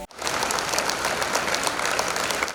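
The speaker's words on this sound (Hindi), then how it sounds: "ਇੱਕ ਵਾਰ ਜ਼ੋਰਦਾਰ ਤਾਲੀਆਂ ਬੱਚੇ ਦੇ ਲਈ।" Audience applause at a televised singing competition finale after a child's performance, a dense, steady burst of clapping lasting a couple of seconds before cutting off.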